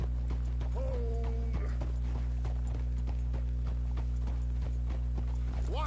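A horse named Silver Dollar walks along in a Western video game, its hooves clip-clopping in a steady, close rhythm over a constant low hum, with a brief whinny-like tone early on.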